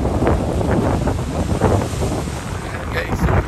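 At Cobourg beach on the lakeshore, waves wash in under heavy wind buffeting the microphone, a continuous rumbling roar with surges of surf rising and falling throughout.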